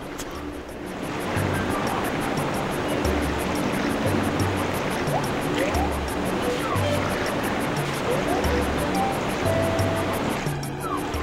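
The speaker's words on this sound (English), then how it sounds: "The waterfall forces you down." Steady roar of rushing water from a waterfall in the video game Super Mario Sunshine, a loud, continuous wash that holds throughout with faint game tones on top.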